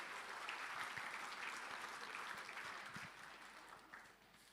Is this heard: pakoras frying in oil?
no